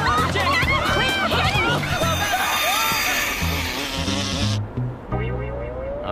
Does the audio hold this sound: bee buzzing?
yes